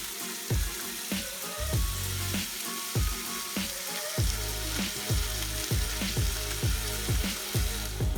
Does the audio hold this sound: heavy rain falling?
no